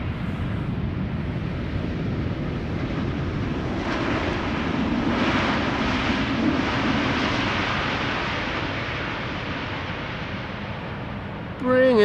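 Boeing 777-300 airliner in standard livery with a blue nose cone, passing as a steady, broad jet roar that swells slightly in the middle, with wind noise and people talking over it.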